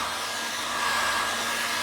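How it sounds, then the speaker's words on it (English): A hair dryer set to its lowest setting blows a steady, even airflow hiss with a faint motor hum, constant and unbroken throughout, close by and alone with no talking. "if you put the hairdryer on a light,"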